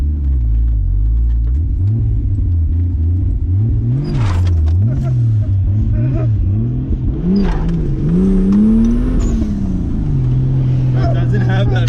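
A Supra truck with a new intercooler setup revs and accelerates hard, its engine rising and falling in repeated loud surges as the driver tries to break the tires loose, with people talking over it.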